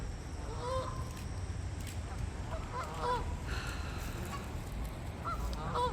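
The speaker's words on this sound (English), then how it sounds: "But then all these geese are coming over here and bombarding her." Geese gathered at a pond crowding a mother duck during feeding give repeated nasal honks, several overlapping calls at moderate distance over a steady outdoor hiss.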